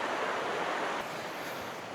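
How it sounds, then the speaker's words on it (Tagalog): A river flows steadily at a camping spot in Irosin, Sorsogon, a broad continuous rushing wash of water that is close and even, with a slight drop in level partway through and no voices. "ang sarap pakinggan ng ilog. Yung agos."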